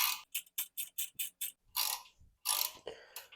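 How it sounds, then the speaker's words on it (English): A ratchet wrench works bolts off the 10 mm vacuum pump on a Jeep Wrangler JK, giving a fast series of sharp, close clicking bursts in a steady rhythm followed by a few longer ratcheting strokes, with no talking. "We're going to be removing these two bolts."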